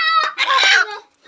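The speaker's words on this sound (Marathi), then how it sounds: "संगीता आईची कोंबडी पकडा." A chicken gives a short, loud, shrill squawk at close range as it is chased and caught during a village roundup, then fades to a faint trailing cry.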